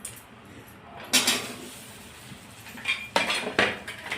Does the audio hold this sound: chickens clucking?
no